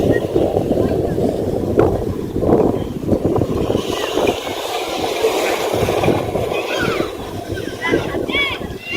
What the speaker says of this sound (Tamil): அலைகள் கொஞ்சம் அதிகமா தான் இருக்கு இன்னைக்கு.